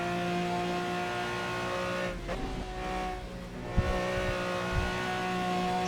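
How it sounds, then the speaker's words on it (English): A race car in the Project CARS racing game holds a steady, droning engine note in sixth gear, then a brief downshift blip and a couple of low thumps. The engine stays moderately loud and continuous. "when you hear the downshift, just imagine I'm downshifting to the 5th gear."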